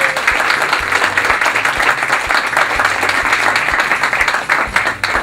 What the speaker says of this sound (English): Can we give them a huge hand of applause?